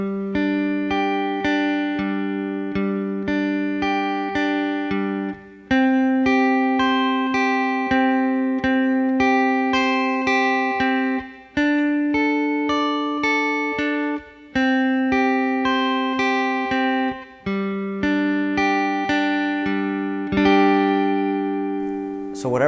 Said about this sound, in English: And now I'm going to use a clean sound and play some power chords on some other strings.